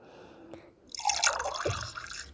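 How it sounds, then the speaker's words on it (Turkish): Coffee splashes and trickles into clear cups in a short close pour, with a few drips first and then a steadier liquid stream, alone without talk. "şimdi kahveleri döktüm"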